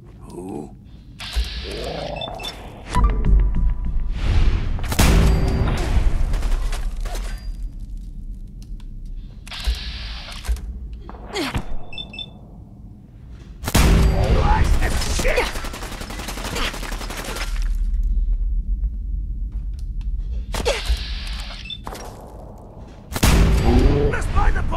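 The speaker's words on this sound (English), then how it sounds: "Let's check out our new sniper rifles, shall we?" Sniper rifles fire in Fallout 4, with several loud, sharp cracks spaced seconds apart, each followed by a rumbling echo, while someone talks between some of the shots.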